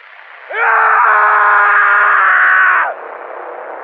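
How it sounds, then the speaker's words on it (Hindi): A single long, loud scream held steady for about two seconds, then cut off abruptly, with a low background hum continuing after. "कि तभी इन तीनों को घर के अंदर से किसी की चिल्लाने की आवाज आती है।"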